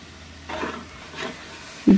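Biryani masala being stirred in a pan with garam masala and ground pepper, for a Malabar-style beef dum biryani. A couple of soft scraping, sizzling stirs, then a sharper knock near the end.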